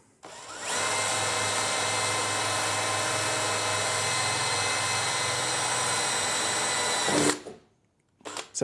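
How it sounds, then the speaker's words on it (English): A power drill whines loudly and steadily for several seconds, boring through a camper van floor, then stops abruptly with a short clunk before quiet. "always drill as if you're gonna hit something"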